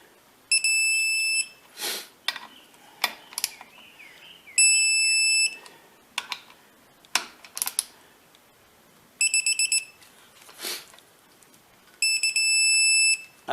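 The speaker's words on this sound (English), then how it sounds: "that solid beep means you are torqued" An electronic torque wrench on a Hummer H1 gear hub gives several steady, sustained high beeps once the set torque is reached. Sharp metallic clicks and taps fall between the beeps, close up and with no talk.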